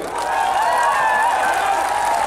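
A dense crowd applauds steadily at a Congress political rally in Khumulwng, Tripura, the clapping close and continuous without a break.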